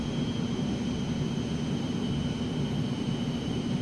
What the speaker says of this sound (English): I'm going to start throttling back here and get slowed up to about 110.